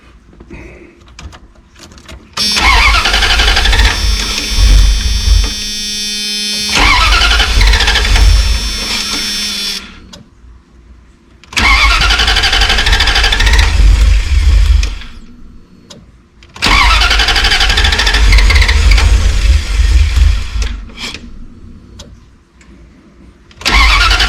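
A 1994–2002 Dodge Ram 1500 van engine cranks in three long, loud attempts of several seconds each, whirring steadily without catching, with short quiet pauses between tries.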